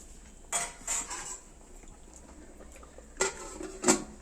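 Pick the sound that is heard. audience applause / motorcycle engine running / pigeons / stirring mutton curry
stirring mutton curry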